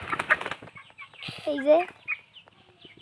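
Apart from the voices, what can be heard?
farm chickens clucking and flapping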